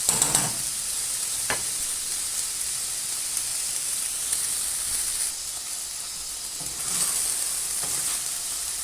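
Chicken and chickpeas sizzle in a hot pan on the stove, a steady close hiss broken by a few soft stirring scrapes, with no talk.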